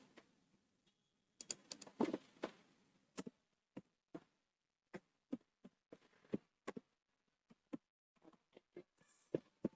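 Typing on a computer keyboard heard close and quiet, with irregular bursts of single key clicks and short quick runs separated by brief pauses.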